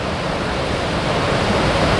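Minnehaha Falls in Minneapolis on a spring day, a dense, steady roar of falling water filling the air evenly and loudly with no voices or breaks.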